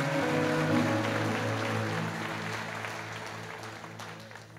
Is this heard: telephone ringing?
no